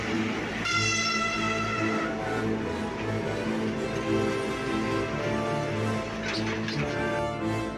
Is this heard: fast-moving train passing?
yes